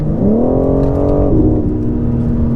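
A 2020 BMW M4 Competition engine pulls hard with a rising droning note, then drops sharply at an upshift and settles into a lower steady tone. The engine sound is artificially enhanced. It is loud and continuous, with no talk.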